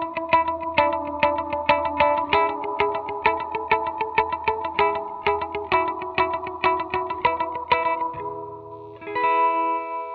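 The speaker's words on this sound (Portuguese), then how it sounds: "Ele também traz um reverb com capacidade de sustentação de notas eterna, pelo uso desse segundo switch chamado Infinite" Space Gazer guitar pedal reverb on picked electric guitar notes, steady repeating phrases drenched in lush washy reverb, ending with a held swelling chord sustained by the infinite setting and shaped by a tone filter.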